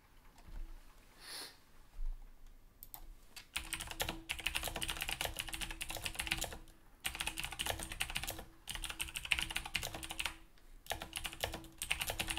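Rapid clicking of a computer keyboard in dense, continuous bursts with a few short pauses, close and fairly quiet, after a couple of seconds of near silence with soft rustles.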